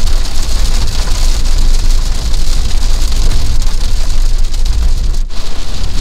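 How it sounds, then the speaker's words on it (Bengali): Heavy rain hammers a car driving on a hill road between Kolkata and Siliguri, a dense, loud, unbroken drumming on the roof and glass over a low engine and road rumble, with no voices. "মারাত্মক বৃষ্টি শুরু হয়ে গেল।"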